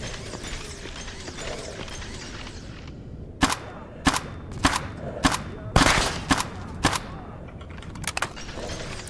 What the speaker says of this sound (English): Where is he shooting me from?